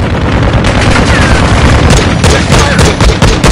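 Rapid gunfire from a Warzone match, loud and continuous, with dense overlapping shots and bursts filling the whole stretch.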